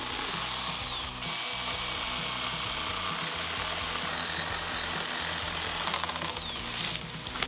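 Pole saw cuts tree branches while clearing an abandoned caravan park, giving a steady loud buzzing motor drone with rough grinding as the chain bites into wood, continuous and close.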